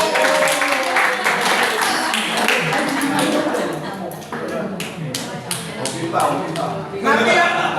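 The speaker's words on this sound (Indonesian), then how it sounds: "Ya, tepuk tangan dulu" Applause from a small group in a room, a steady stretch of clapping with some taps and shuffling, fading slightly in the middle and then picking up again.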